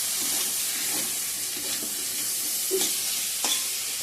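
Hot water poured into fried masala in a pan hisses and sizzles steadily up close, with a few utensil clinks and scrapes breaking through, no talking.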